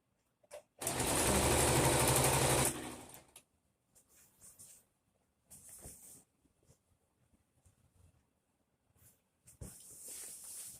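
A sewing machine stitches a waistband onto a skirt in one loud, steady run of about two seconds, followed by quieter fabric handling and short whirring bursts.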